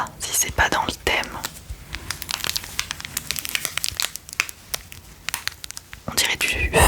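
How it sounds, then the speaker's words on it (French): A crinkly cat toy shaped like a witch's hat being squeezed close up, giving dense crackling and rustling bursts throughout, with soft whispering under and between the crinkles. "C'est un petit jouet pour mon chat en forme de chapeau de sorcière."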